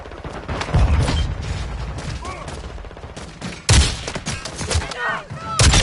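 Gunfire in the video game Modern Warfare 2 comes in rapid bursts of rifle shots, loud and close, with sharp cracks at the start and near the end and game voice callouts mixed in.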